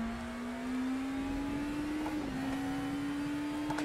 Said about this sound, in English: The Audi sounds so right good.